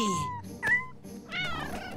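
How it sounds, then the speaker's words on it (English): A small kitten meows several times in short, high, fluttering cries, with a louder cry midway, close and clear over a faint background hum. "Aww, it's a little kitty."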